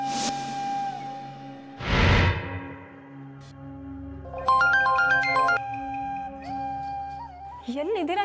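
An electronic phone ringtone plays a bright, repeating melody of quick notes, preceded by a sharp whoosh and sustained background tones.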